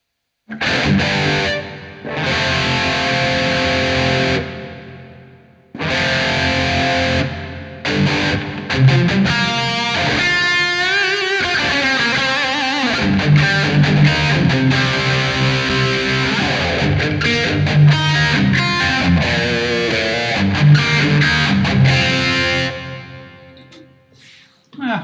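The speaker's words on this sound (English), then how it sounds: "It's a plate reverb." Distorted electric guitar chords and riffs ring out with a spacious, shimmering plate reverb tail, playing continuously after a brief pause near the start.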